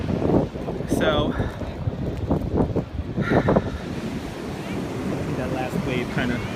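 Cold ocean surf washing onto a snowy Brooklyn shore in a blizzard, with steady roaring wind and wash of breaking waves throughout, close and loud, with a voice talking over parts of it.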